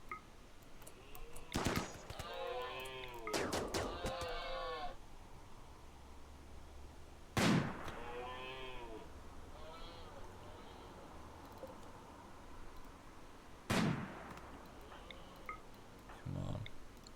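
Gunfire in the colony-building video game RimWorld comes as a few sharp, separate cracks spread out in time. Each shot stands out loudly above a faint background, with a voice talking between them.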